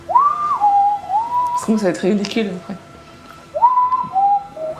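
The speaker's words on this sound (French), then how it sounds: "Je siffle vachement bien." A person whistles short melodic phrases, with a burst of speech between the whistled parts.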